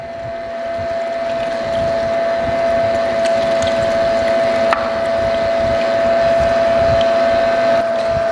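An electric meat grinder runs steadily, grinding coarse Greek loukaniko sausage meat with a constant motor whine and low churning hum, loud and close, no talk.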